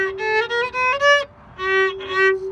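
Bach's Minuet in G phrase bowed on a violin: a quick run of distinct notes, a short gap, then two longer tones, played close up with no talking.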